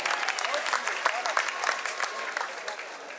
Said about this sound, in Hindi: तब तक एक बार आप तालियां बजाएं